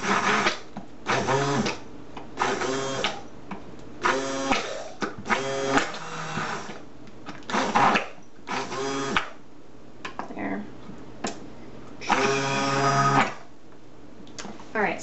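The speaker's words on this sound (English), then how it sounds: "I'm just going to put my stick blender right on top of the glove." Stick blender running in bursts through soap batter for a rosemary mint gradient soap, repeated one- to two-second whirring pulses separated by short pauses, close and fairly loud, with a voice speaking between bursts.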